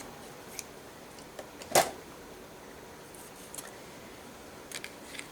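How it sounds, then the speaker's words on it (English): Scissors snip out separate die-cut paper elements for a ranunculus-themed gate fold card, giving one clear crisp cut and several fainter snips spread through a quiet room. "Sometimes I like to just cut out the separate elements."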